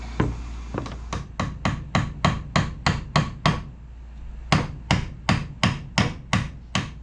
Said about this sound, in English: Time to go nail this up.